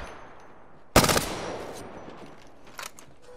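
A sharp burst of gunfire in Apex Legends, a loud close volley followed by a decaying tail and a fainter second shot near the end, with no talk over it.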